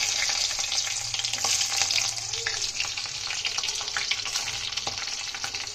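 Cumin seeds crackle and pop in hot oil as garlic cloves and chillies are added, a steady, close sizzle with scattered spattering throughout.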